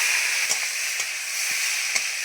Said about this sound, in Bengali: তো কড়াইতে তেল দিয়ে চিংড়ি মাছগুলো ভেজে নেব এবার।